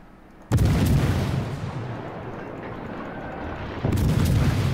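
Main battery guns of a warship in World of Warships boom loudly in two heavy blasts, one at the start and another near the end, with a long rumbling roll between them and no talk.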